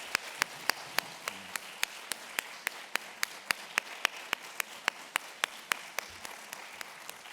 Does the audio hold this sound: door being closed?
no